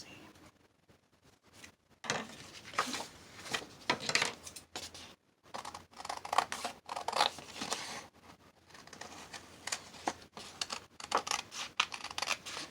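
Paper being cut for a junk journal gives quiet, close snips, scrapes and rustles, irregular and faint, with brief pauses between cuts.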